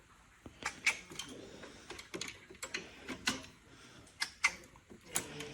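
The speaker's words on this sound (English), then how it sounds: "You can hear the torque wrench going off" Torque wrench clicking as bolts are tightened to spec on a BMW F10 520d N47D20C turbo: a series of sharp, irregular metallic ticks and snaps, close and fairly quiet, with small handling noises between them.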